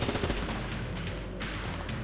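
The volcanic cannon from the video game Enter the Gungeon fires in a dense, continuous barrage of rapid blasts that run together without pause, moderately quiet in the game mix.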